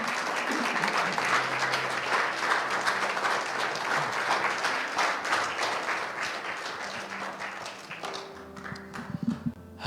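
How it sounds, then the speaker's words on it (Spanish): A church congregation applauding the Lord after a sermon on marriage, sustained clapping from many hands for about eight seconds before fading, followed by faint room sounds. "démosle un fuerte aplauso al Señor"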